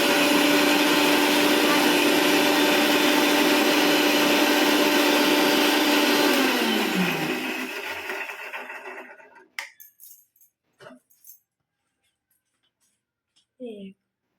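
An electric mixer grinder whirs loudly and steadily as it blends ingredients with water, then winds down and stops, followed by a few soft clinks and handling sounds in a quiet kitchen.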